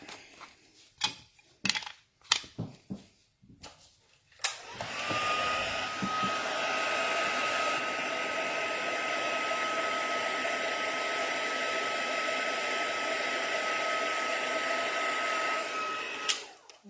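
A heat tool used for embossing in a papercraft session blows a steady, loud whoosh for about twelve seconds. A few short taps and clicks come before it starts.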